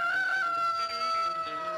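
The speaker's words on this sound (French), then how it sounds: "Arrête ton cocorico" A cartoon rooster crows loudly and close by, a sustained strained call holding steady through the whole moment.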